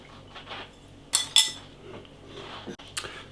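A little spoon mixing Oreo Joy Fills in a bowl, with a few sharp, close metal clinks and scrapes against the dish amid soft background noise.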